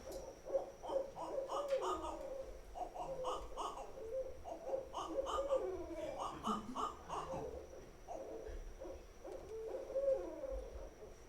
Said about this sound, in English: there's one bird doing this sort of hoo, hoo, hoo, and then the other cackling on top of it